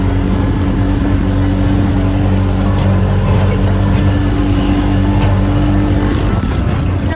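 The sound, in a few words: riding a tricycle on a bumpy road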